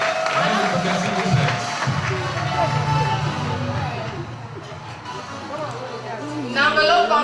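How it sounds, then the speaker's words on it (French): Audience applause at a school gala at Lycée du Manengouba, a loud crowd clapping and cheering under an announcer's French voice, with a fresh swell of clapping near the end. "Applaudissons pour Madame Magnon, s'il vous plaît"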